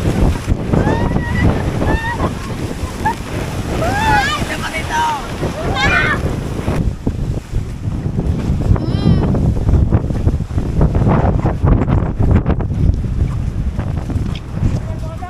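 Large monsoon sea waves crash and churn under gusting wind buffeting the microphone, loud and continuous, with children's shouts and voices rising over the surf.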